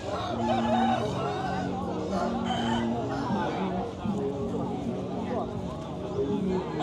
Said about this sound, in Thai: นี่เป็นไก่ชนนะ